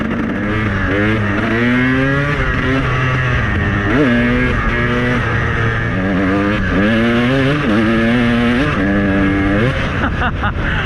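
KTM 300 motorcycle engine revving hard and continuously, its loud, buzzing pitch climbing and dropping in repeated surges as the throttle is worked, close by and dominating throughout.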